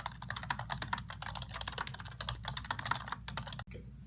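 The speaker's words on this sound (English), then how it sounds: "You will then click Start Typing and begin typing the words in the test." Rapid typing on a computer keyboard during a typing test, a dense run of close, crisp key clicks with uneven rhythm that stops briefly near the end.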